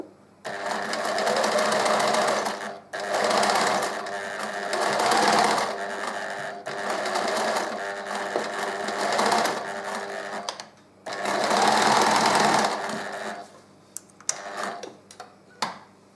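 Sewing machine stitching a centred zip into a seam, running in several loud sustained bursts of a few seconds each, separated by short pauses, with small clicks and handling noises near the end.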